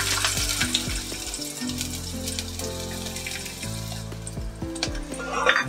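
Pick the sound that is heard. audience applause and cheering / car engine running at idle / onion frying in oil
onion frying in oil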